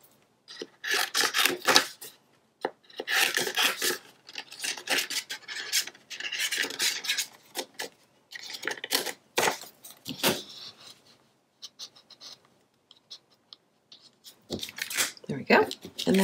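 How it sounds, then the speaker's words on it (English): Paper being trimmed for a Yuletide scrapbook page, giving repeated close rasping cuts in uneven bursts with short pauses between them. "I'm actually going to trim this down so I can go ahead and cover the front."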